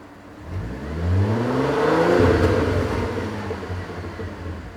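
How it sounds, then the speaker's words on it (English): A car engine with a new exhaust resonator revs up once, the exhaust note rising into a deep, resonant drone, then holding steady and easing off slightly. "Just give it a little rev."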